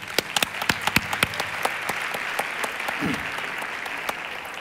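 An audience applauds in a hall, with crisp separate hand claps at first that thin into a looser, softer patter, plus a few murmured voices in the background.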